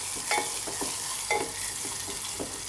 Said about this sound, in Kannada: ಹೀಗೆ ಚೆಂದಾಗಿ ಮಿಕ್ಸ್ ಮಾಡ್ಕೊರಿ